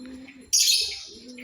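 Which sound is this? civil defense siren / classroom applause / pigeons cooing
pigeons cooing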